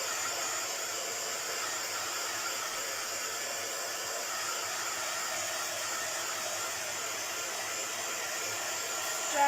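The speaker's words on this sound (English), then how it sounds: "I'm just actually going to go in and dry the back a bit because it's managed to come behind it." A handheld heat tool blowing steadily while drying the back of a watercolour craft piece, a constant close whooshing whir with no pauses and no talk.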